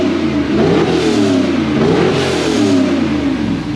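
A 2014 two-wheel-drive Toyota Hilux with a swapped 6 litre LS2 V8 revs loudly and close, rising and falling twice in a steady growl with no voices.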